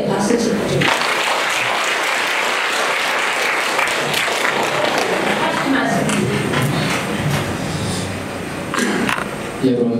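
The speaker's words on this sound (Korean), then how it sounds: "장로님께 박수 주십시오." A church congregation applauds, sustained clapping from many people filling the room for several seconds, with some voices under it.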